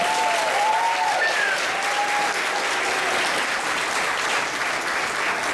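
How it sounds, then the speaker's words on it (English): Steady applause from families and friends gathered at a kindergarten move-up ceremony, filling the room evenly for several seconds with a few faint voices rising above the clapping. "Let's give them another applause"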